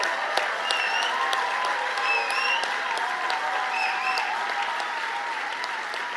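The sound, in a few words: standing ovation applause at Afreximbank annual meeting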